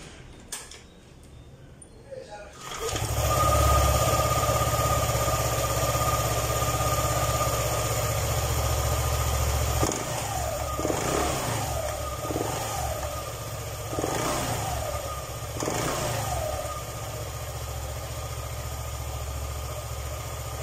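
A Yamaha Aerox 155 scooter, fitted with a new Koso clutch lining, starts up and settles into a steady idle, with a few brief throttle blips rising over the running engine.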